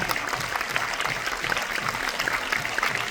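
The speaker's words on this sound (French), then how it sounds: "Continuez à applaudir chaleureusement, s'il vous plaît" Audience applause at a movie premiere, a continuous wash of clapping heard from some distance and fairly soft, with faint crowd noise mixed in.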